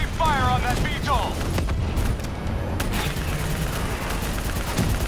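Call of Duty Black Ops 3 battle gunfire, dense bursts of shots and booms over constant loud combat noise, with a player talking over it.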